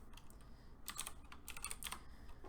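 Typing on a computer keyboard produces quick, faint clusters of key clicks, close by and without talk, with a short burst of rapid keystrokes in the middle.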